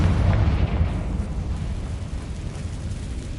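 Confringo fire spell blast in the Hogwarts Legacy video game, a loud, dense low rumbling explosion that peaks at the start and then rolls on steadily for several seconds with no one talking over it.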